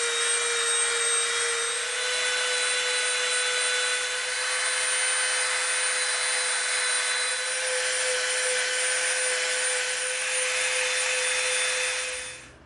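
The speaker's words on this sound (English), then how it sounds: "now we're going to get our Dremel out. Got our smooth bit, our dust mask on. We're going to soften up all these edges," A Dremel rotary tool fitted with a smoothing bit rounds the edges of EVA foam, giving a steady high-pitched whine that holds evenly throughout before cutting off at the end.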